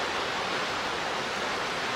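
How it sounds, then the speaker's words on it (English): Victoria Falls on the Zambia side, a mile-wide waterfall, roars as a steady, dense wash of rushing water with no breaks or voices. "I am at the Victoria Falls on the Zambia side of this geographical marvel."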